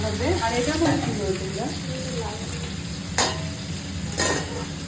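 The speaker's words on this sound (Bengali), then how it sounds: "এই যে পমফ্লেট মাছ ভাজা" Pomfret fish frying in a pan gives a steady, close hiss of hot oil, with a couple of brief sharper crackles and a faint voice in the background near the start.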